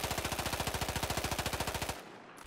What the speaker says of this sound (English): Let's use AEK assault rifle to see how it actually works.